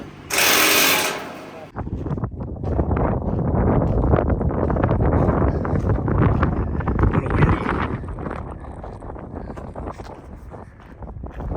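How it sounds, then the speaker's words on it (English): A brief burst of hissing opens, then gusty wind rumbles and buffets the microphone continuously, loud and close, for the rest of the clip. "Little windy out today."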